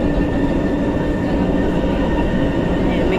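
An MRT train in Manila rumbles past on a rainy day, a loud, steady roar of wheels and car noise that fills the whole stretch without a break.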